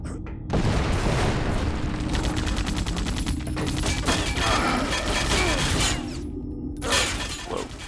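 Rapid bursts of M60 machine gun fire in the shooter game Vivisector, loud and sustained for several seconds with sharp impacts and a brief pause near the end before firing resumes, no talking.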